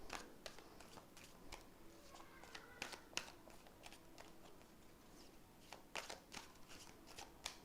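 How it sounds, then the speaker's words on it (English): Oracle cards are shuffled by hand in a quiet room, with a rapid run of soft riffling taps and snaps that continues throughout. "Now let me take out some oracle cards."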